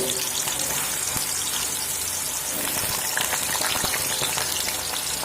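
Potatoes frying in hot oil in a pan, a loud, steady sizzle and crackle running throughout with occasional stirring clatter, close and alone without voices.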